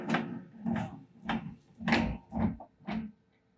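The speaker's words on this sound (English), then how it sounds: "we're going to need to open the door here" A vending machine's door opening with a run of six knocking, rattling thumps at steady half-second intervals, close and moderately loud, with no voices.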